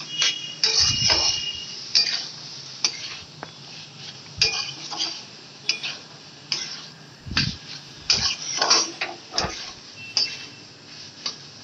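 A spoon stirs pre-fried potatoes in a metal pan while cooking a homestyle snail curry, producing close, irregular scraping and clinking strokes with short pauses between them.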